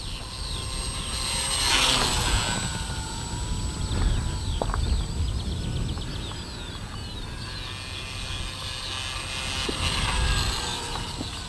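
A VolantexRC Mustang 768-1 750mm electric RC model airplane flies past on its maiden flight, its motor giving a continuous whining drone that swells and recedes against an outdoor background.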